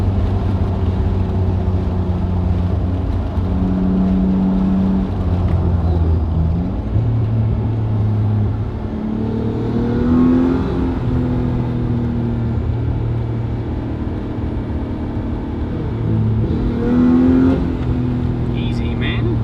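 A Chevrolet Cavalier making a quarter-mile drag racing pass, its engine revving and climbing through repeated pitch sweeps as it shifts, loud and continuous, with voices talking over it now and then.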